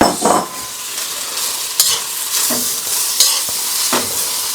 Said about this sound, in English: Add my king prawns.